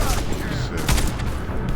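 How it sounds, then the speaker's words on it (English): Loud, dense gunfire and grenade explosions keep booming during a firefight in The Division, where a Grenadier enemy throws explosive grenades, with a voice talking over the continuous battle noise. "The Grenader is an explosive kind. He's throwing explosive grenades."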